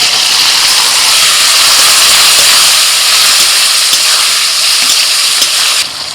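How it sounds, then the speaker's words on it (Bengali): Potatoes dropped into hot oil in a pan for a spiced curry, giving a steady loud frying hiss that runs unbroken for several seconds and eases off slightly right at the end. "একটু ভেজে নিয়ে এবার আলু দিয়ে দিচ্ছি।"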